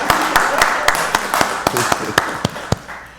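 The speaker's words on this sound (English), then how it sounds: "Give her a round of applause" Scattered applause from a small audience at a county board of commissioners meeting, with a dozen or so distinct, spaced-out claps, fairly close, gradually thinning out.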